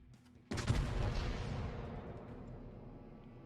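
A naval gun salvo in World of Warships bursts suddenly and loudly after a quiet moment. The blast settles into a long rumbling decay, with no voices over it.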